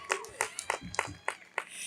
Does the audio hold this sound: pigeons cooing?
no